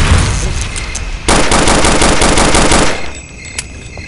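Automatic gunfire in the video game Counter-Strike Condition Zero, a loud rapid burst of machine-gun shots lasting about two seconds, then a quieter stretch with a single faint pop.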